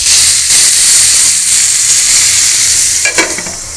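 Bata fish and eggplant frying in a pan, a loud, close, continuous sizzle and hiss with a brief stirring clatter near the end.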